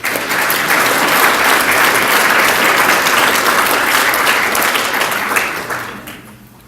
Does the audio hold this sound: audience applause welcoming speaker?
yes